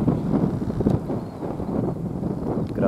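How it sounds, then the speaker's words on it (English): Wind on a very windy day buffets the microphone in a continuous low rumble with gusty swells, steady and fairly loud with no other clear sounds. "is a very windy day."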